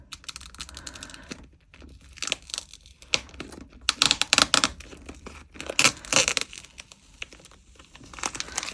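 Tape peeled off a homemade resin tray, heard as close, crackly bursts of ripping and crinkling that come in irregular clusters, fairly loud with short quiet gaps and no talking.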